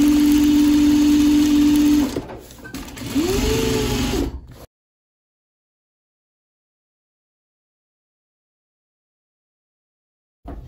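A sewing machine stitches sleeve layers of a Civil War bodice, a steady humming whir with a brief pause, then a second short run before it stops and falls silent.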